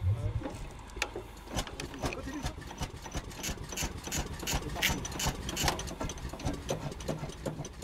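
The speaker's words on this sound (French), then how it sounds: "Et le moteur décide de démarrer cette fois-ci pour de bon." A small train's engine catching after hand-cranking, a close, rapid mechanical chatter with dense rhythmic clicking and rattling that runs steadily throughout.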